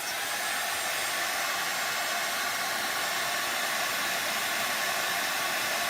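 A hair dryer blows on milk paint, a steady loud whooshing roar held at one pitch from start to finish, close by and with no speech.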